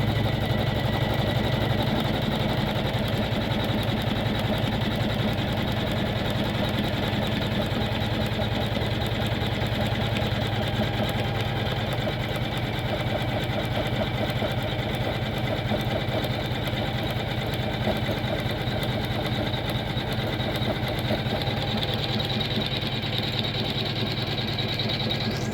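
A Janome MC500e embroidery-only machine runs continuously, producing a steady mechanical whir and rapid fine needle-like rhythm at a constant level close by, with no talking.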